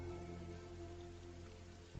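Rain falls steadily in a soft, continuous patter on a surface, faint and even for the whole short stretch, with a low background hum and no voices.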